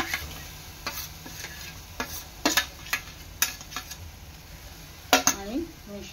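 A spoon stirs mashed roasted brinjal in a pan with a faint sizzle underneath, scattered clinks and scrapes against the metal at an uneven pace, close and fairly quiet.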